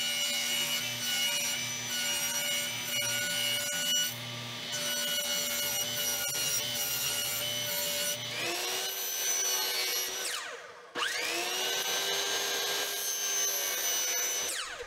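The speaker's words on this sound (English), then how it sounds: "I tilted the blade on my saw to 45 degrees and I'm using my precision miter sled to cut the ends first." A table saw with its blade tilted to 45 degrees, run through a precision miter sled, cuts the ends of wood ceiling panels: a steady loud motor whine and sawing, dropping briefly as one cut ends before the spin-up and next pass.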